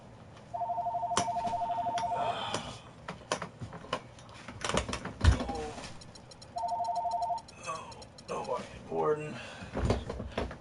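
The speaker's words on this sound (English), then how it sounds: "Al's phone is ringing" A phone rings twice with steady electronic trill bursts, separated by clattering, thumps and other noise during an NBA 2K16 Cavs versus Clippers game session.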